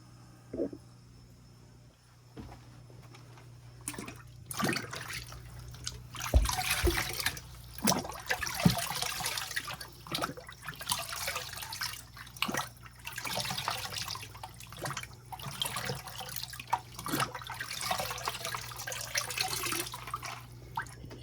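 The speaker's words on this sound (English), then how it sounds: "I'm basically going to dunk this multiple times in this water" Aquarium box filter repeatedly dunked and sloshed in tank water from a 55-gallon tank, giving intermittent splashing, trickling and dripping bursts at close range with no talking.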